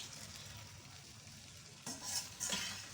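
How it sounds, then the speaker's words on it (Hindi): A spoon stirs an onion dish in a pan, scraping and clinking lightly over a steady soft sizzle, with a couple of louder stirs near the end. "अब इसमें चम्मच चलाएंगे"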